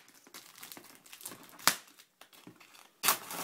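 A knife that cuts poorly saws and tears through a parcel's packaging, giving scattered scratchy rips and crinkles with a couple of sharp louder tears, close up and without speech.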